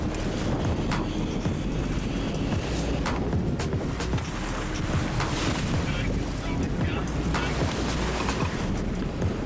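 The sailboat WildChild moves across open ocean, surrounded by constant rushing water, breaking waves against the hull and heavy wind buffeting the microphone, loud and unbroken with no clear talk.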